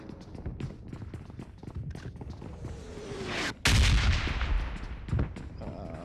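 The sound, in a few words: grenade explosions in video game PUBG Mobile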